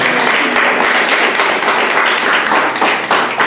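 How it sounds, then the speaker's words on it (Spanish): A church congregation applauds with dense, rapid, sustained clapping that fills the room evenly, close and loud, without talk over it. "Un aplauso al Señor"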